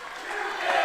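Spectators at a high school girls' volleyball match between Maplewood and Cochranton roar in a loud, sustained crowd cheer that swells slightly over the short moment.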